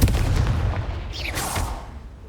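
A Confringo blasting spell from the Hogwarts Legacy video game goes off in a loud, booming burst, a heavy explosion that rolls and fades over a couple of seconds with no talk.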